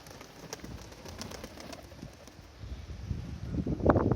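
Polish pigeons, Mikołajewskie and Polish orliki moulting in a loft, making faint shuffles, wing flutters and scratchy movements, growing busier and louder toward the end.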